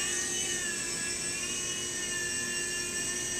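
An MSR micro RC helicopter lifts off and hovers, its small motor and rotor giving a steady, high-pitched whine with a constant tone throughout, close by and unbroken.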